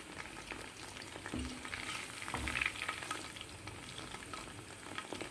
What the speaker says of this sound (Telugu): ఇట్లా తిప్పుకుంటూ వేయించుకోండి